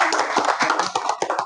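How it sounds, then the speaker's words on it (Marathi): A gathered audience at a local event claps for a doctor, brisk close-up hand claps in a quick uneven burst. "मी सरांसाठी आपल्या सर्वांना विनंती करतो की सर्वांनी टाळ्या वाजवून"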